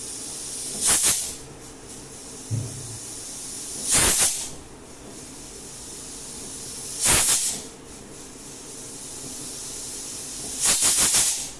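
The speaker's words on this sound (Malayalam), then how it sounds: "ഇതിൽ വിസിൽ വന്നുകൊണ്ടിരിക്കുകയാണ്" A pressure cooker on the stove releases steam through its whistle in four sharp hissing bursts spaced a few seconds apart, loud and near over a low background hum.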